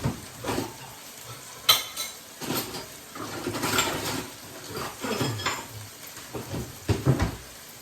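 Hamburgers frying in a pan on a home stove alongside simmering rice and broccoli, with soft sizzling, utensil scrapes and clinks of pots recurring throughout at close range.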